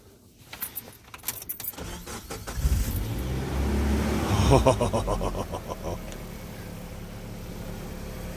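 A Jeep starting after an exhaust leak repair: keys jangle first, then the engine cranks, catches with a brief rev, and settles into a steady quiet idle, close by.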